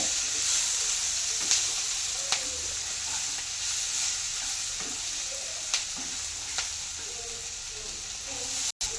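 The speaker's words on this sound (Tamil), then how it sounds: "ஆட் பண்ணிட்டு நல்லா மிக்ஸ் பண்ணி விடுவோங்க." Fried chilli chicken mixture being stirred in a pan, a steady sizzle of frying with occasional sharp scrapes and clinks of the spoon against the pan, fairly close, with no voices.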